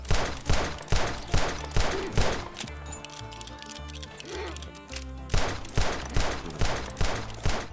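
A worn revolver in the worst condition fires from the hip in Red Dead Redemption 2, a series of sharp gunshots at a steady rhythm, pausing mid-clip while a music-like tone and clatter fill the gap, then resuming.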